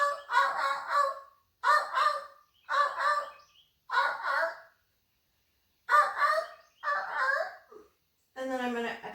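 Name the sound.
person imitating a seal's noise during yoga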